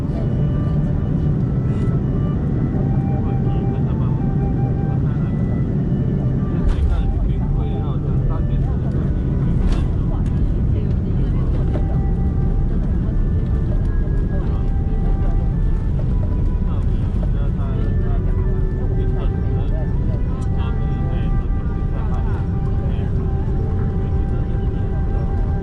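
Cabin noise aboard an EVA Air Airbus A330-300 in economy during approach and landing at Beijing: a loud, continuous low engine and airflow roar with faint clicks and rattles throughout.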